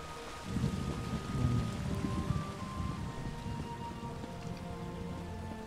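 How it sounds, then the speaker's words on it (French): A rain shower falls in the video game The Elder Scrolls Online, a steady dense patter of drops with distant rumbling underneath, continuous and even throughout with no voices. "Ah, une averse. Fichtre, je me suis laissé surprendre par des grosses gouttes qui se sont mises à tomber du ciel."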